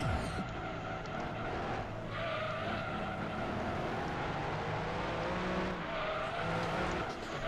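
Race car engine roaring with tire squeal on a track in Gran Turismo 2, a continuous loud drone with rising and falling revs and no voices.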